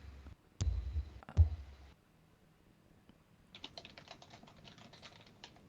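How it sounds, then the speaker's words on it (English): Someone types on a computer keyboard. Two loud thumps come first, then a spell of quiet, then a run of faint, rapid key clicks close by, with no speech. "I can hear the keyboard."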